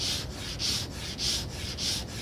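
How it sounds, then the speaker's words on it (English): Sandpaper stuck to a flat surface rasps against the wooden bottom of a toothpick dispenser in four steady back-and-forth strokes, a rhythmic scratchy hiss that swells and fades with each pass. "Sanding the bottom of this with a piece of paper stuck to a flat surface is optional."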